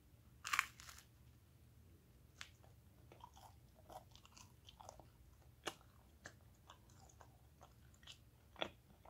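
Close, quiet chewing of cooked brain, with irregular crunchy bites and moist mastication spread across the clip and a few sharper crunches standing out. No one speaks.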